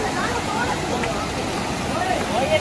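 Chham waterfall in the mountains near Pangora village, Abbottabad, a steady broadband rush of falling water filling the whole clip, with faint voices in the background.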